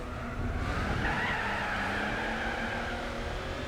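Race car tires skid and squeal steadily in Gran Turismo 4 over a constant engine drone during a two-lap race, moderately loud with no speech.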